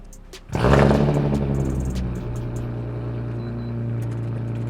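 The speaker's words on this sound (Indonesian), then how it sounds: "gue pengen denger nih suara si Fairlady ini tuh gimana sih?" A Nissan Fairlady with an aftermarket exhaust cranks and fires up, bursting into a loud, deep roar that settles into a steady, rumbling idle close by.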